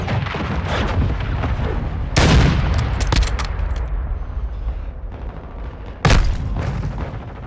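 Loud, dense barrage of booms and gunfire in a Call of Duty: Modern Warfare II match, with a continuous rumble of artillery-like blasts and two sharper, heavier impacts standing out from the battle din, as from a cruise missile strike.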